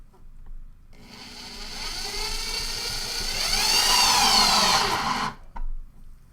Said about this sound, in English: We're just gonna do it with the power drill today.